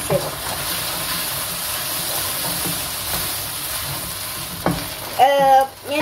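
Mushroom chilli masala is mixed and fried in a pan, with a continuous loud sizzle, occasional stirring scrapes and a sharper hiss burst near the end.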